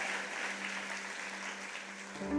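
Congregation applauding during a church service, a soft, steady patter of many hands clapping at some distance, fairly faint and sustained without a break.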